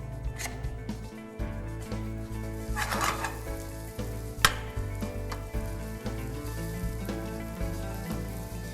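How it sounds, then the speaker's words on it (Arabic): Kunafa phyllo dough fries in melted butter in a Tefal pan, a steady close sizzle with occasional stirring scrapes and light taps throughout, no voices. "ونحمرهم"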